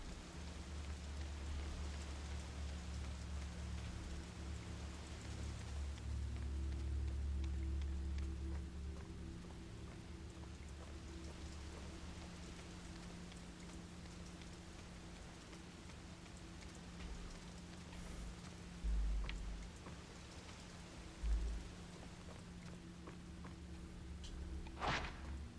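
In the Fatal Frame game, rain beats steadily on thin window glass over a low hum, with a few soft thuds near the end.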